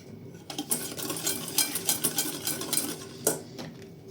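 A spoon scrapes and clinks steadily against a bowl, grinding egg yolk with sugar in an uneven rhythm, close up with no talking.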